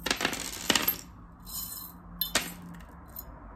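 Small metal charms clink and drop onto a surface during a fortune reading, giving a few sharp, bright chinks and tinkles spaced apart amid quiet handling.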